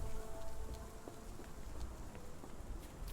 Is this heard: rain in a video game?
yes